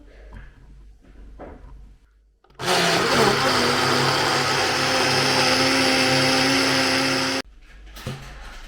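A blender whirring up wild blueberries with milk and honey into a smoothie, a loud steady motor roar lasting several seconds that starts and stops abruptly, with quiet handling noises before and after.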